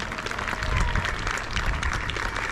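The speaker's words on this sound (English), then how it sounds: "please give a massive round of applause to all of our ground crew and scoring judges" Outdoor crowd at a jousting tournament claps for the ground crew and judges, a fairly faint, scattered patter of applause under low rumbling background noise.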